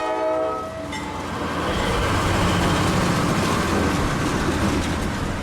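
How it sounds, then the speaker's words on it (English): CSX freight train Q235 rolls past, led by locomotive CSX 7707. A short horn blast opens the pass, then a loud, sustained rumble of the engine and cars continues close by, with no one talking. "Now watch as 235's engine passes underneath."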